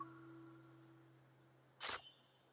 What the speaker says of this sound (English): With the crisp sound of the shutter, the film captures a moment